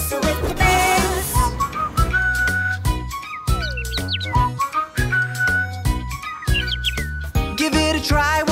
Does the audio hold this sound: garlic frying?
no